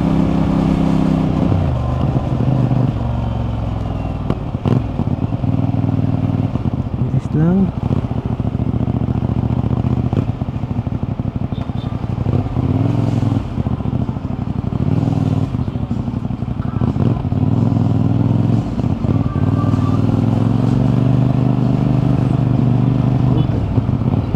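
Engine of an NK450 motorcycle rumbles steadily throughout the ride, a continuous low drone with some road clatter and wind, loud and close for the whole stretch.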